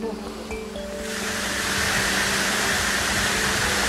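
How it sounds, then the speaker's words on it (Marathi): A loud, steady roar of rushing water builds up and then holds, from the tall Shirvane Waterfall at Juinagar, Navi Mumbai, close by, with a faint tone early on. "पाण्याचा जो प्रवाह आहे ना तो मजबूत एकदम जोरामध्ये पडत असणार"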